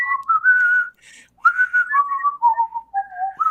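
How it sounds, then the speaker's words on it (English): A group of people whistle a clear, melodic wandering tune, close and fairly loud, with a brief pause partway through. "Everyone just start whistling."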